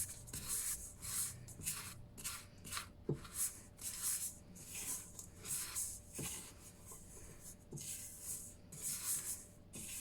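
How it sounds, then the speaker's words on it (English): A thick sugar scrub paste is stirred by hand in a bowl, giving quiet, rhythmic scraping and rubbing strokes that repeat steadily with soft gaps between them. "Try to stir with my left hand."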